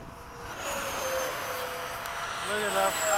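A MiG-21 jet engine roaring with afterburner in a flight simulator game, a steady mid-level rumble and whine that swells slightly toward the end, with someone talking faintly over it.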